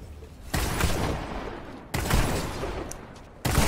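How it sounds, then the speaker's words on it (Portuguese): Three bursts of rapid gunfire from a Fortnite match, each lasting over a second with a sharp onset, loud and close with no talk over them. "Eu vou atirar nele."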